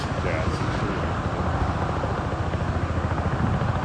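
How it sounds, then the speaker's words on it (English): Helicopter flying near a roadside stop in Norway, a steady loud low rotor drone with a broadband rushing wash, continuous and close. "Helicopter."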